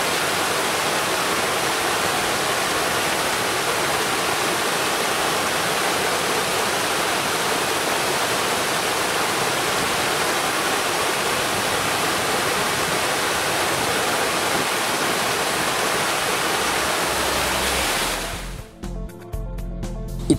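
Roughly 120-metre waterfall on the Vazov eco-trail, a steady, dense, full-band roar of falling water that runs unbroken and loud for most of the stretch before cutting off abruptly near the end.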